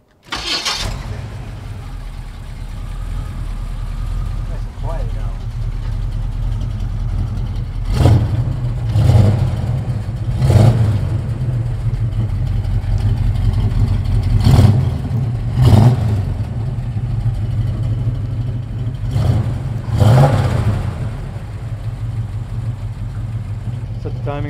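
A 1975 Chevrolet K10 pickup truck engine cranks and catches, then idles roughly while being revved several times in sharp bursts; voices speak briefly.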